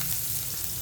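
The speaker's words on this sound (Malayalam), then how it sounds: "ഇപ്പം നമ്മൾ ഓലിവ് ഓയിൽ ഒഴിച്ച് കടുക് പൊട്ടിച്ച്" Onions frying in olive oil with mustard seeds, a loud, dense, steady sizzle close up for a brief moment, with no talking.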